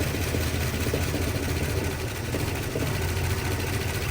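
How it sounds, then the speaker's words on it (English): An old Mopar car engine idling roughly, heard close up as a steady, loud rumble with uneven pulsing and no voices. "I don't know if you guys can tell how rough it's running"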